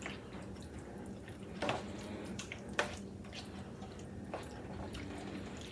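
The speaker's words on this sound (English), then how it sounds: "I'll give that a quick stir." Ground beef sautéed earlier with onion is stirred in a pot for a low-carb lasagna. A few soft, wet squelches and spoon scrapes come through quietly over a faint background.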